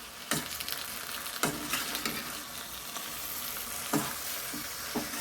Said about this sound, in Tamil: இந்த தக்காளியோட ஜூஸ்லேயே நல்லா வதங்கட்டும்